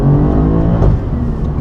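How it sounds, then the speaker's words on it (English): 2017 Alfa Romeo Giulia Quadrifoglio accelerating hard in race mode with traction control off: a loud, close engine roar with a rapid pulsing judder from wheel hop, steady and strong across the short burst. "Plenty of wheel hop, and that's to be expected when traction control is off."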